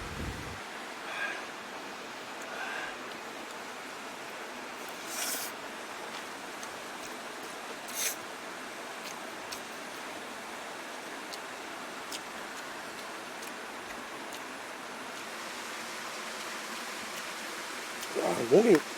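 A mountain waterfall and stream at Naeyeonsan rush in a steady, broad wash of water that runs throughout, with a few faint knocks and a brief louder sound near the end.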